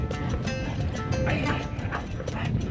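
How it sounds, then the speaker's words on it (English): Several young dogs, puppies around 8 months to 1 year old, bark and yip in quick bursts over a busy background in Kyrgyzstan, with people talking nearby. "They really are just puppies."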